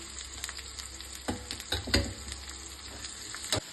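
Chopped onions frying in oil for a sambar tempering with curry leaves, a soft steady sizzle with a few louder stirring scrapes and crackles, close and alone without voices.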